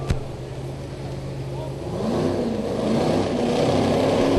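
A 2000 Camaro drag car with a 615 cubic inch engine revs at a drag racing event, a steady rumble building louder after the first two seconds and holding through the end, with a loudspeaker announcer's voice over the top.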